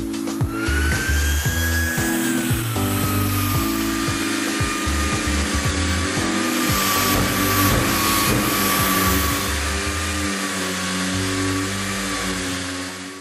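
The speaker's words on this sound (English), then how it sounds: "the vacuum cleaner will only start when you switch on the power tool" A power tool whines at high pitch alongside the steady roar of a Kärcher professional vacuum cleaner, both running loud and continuous before slowly winding down.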